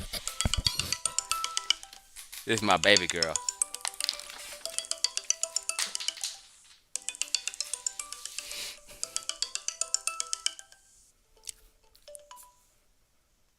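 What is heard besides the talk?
phone ringing with an incoming call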